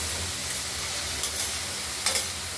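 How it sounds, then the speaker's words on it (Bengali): Vegetables cook in an uncovered pan with a continuous soft sizzle, a couple of brief scraping stir strokes rising above the steady frying hiss. "আবার ঢাকনা খুলে নেড়ে করে দিচ্ছি।"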